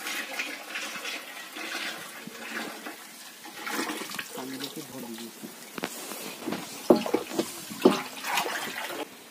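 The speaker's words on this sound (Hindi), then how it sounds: "तो अब इसमें हम अब 2 केजी गुड़ मिलाएंगे।" Dissolved jaggery water is poured into a jeevamrit mix in Jharkhand, a continuous, moderate gushing and splashing of liquid with someone talking over it.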